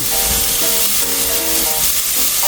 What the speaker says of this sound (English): Once your pot's nice and heated up, throw in your bacon.